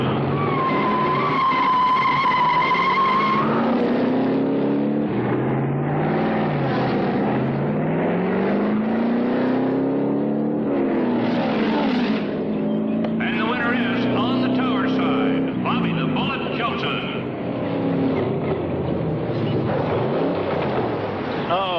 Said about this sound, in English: The cars are up on the line. We are ready to go.